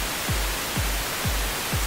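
Steady broadband pink noise from an audio plugin hisses continuously while a deep kick drum thumps four times at an even pace beneath it.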